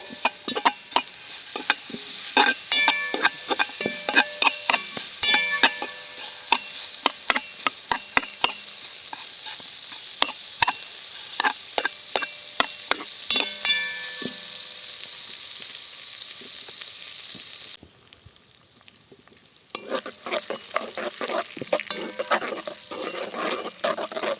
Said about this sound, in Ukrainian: Кидаємо цибульку і перемішуємо.